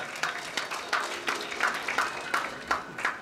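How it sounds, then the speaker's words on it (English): A smallish audience at a climate change conference applauds to welcome a speaker to the stage, a thin, moderately faint patter of individual claps with a loose, uneven rhythm of distinct claps. "Please, our applause."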